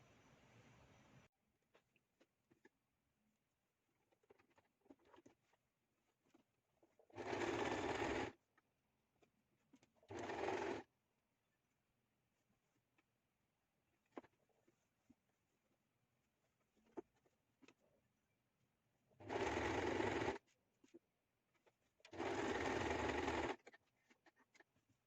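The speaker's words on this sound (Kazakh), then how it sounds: "Осылай белгі салып, енді осыны машинкаға жүргізіп шығамыз." A sewing machine stitches the sleeve seam of a raglan T-shirt in four separate loud bursts, two short and two longer, with quiet handling noises between the runs.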